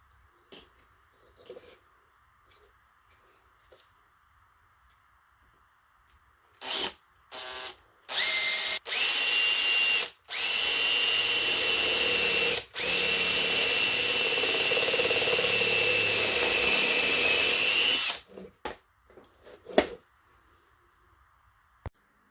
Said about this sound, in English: now we just need to drill a hole for the bolt to pass through